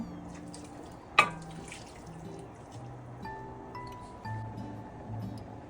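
Hot rice-boiling water is poured over meat for kacchi biryani, a brief splash followed by faint trickling and dripping in a quiet kitchen with no talking.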